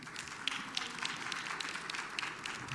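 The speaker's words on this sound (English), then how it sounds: "Let's give him a round of applause once again." Applause from an audience at a Ghanaian money summit event, a steady wash of scattered clapping with individual sharp claps standing out, moderately distant and continuous throughout.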